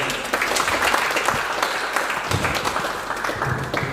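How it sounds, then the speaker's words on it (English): An audience at a cybersecurity meetup breaks into warm, sustained applause, a dense patter of clapping hands that holds steady for a few seconds. "A round of applause for him."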